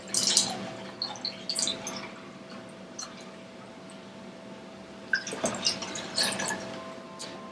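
Orange juice without pulp is poured into a container for a double batch of sangria. Liquid drips and splashes come close by in intermittent bursts, with quieter trickling in between.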